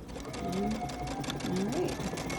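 A sewing machine runs steadily up close while stitching a seam in pajama fabric, its rapid mechanical chatter continuous beneath a person speaking.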